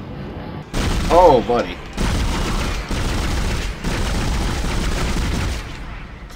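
Rapid, machine-gun-like gunfire in Dead Space rattles out in dense sustained bursts split by short pauses, while a man exclaims over the opening shots.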